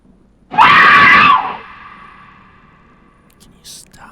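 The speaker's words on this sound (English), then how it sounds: "Can you stop screaming?" A single loud, prolonged scream, sustained for about a second and then trailing off, heard alone in a horror game session.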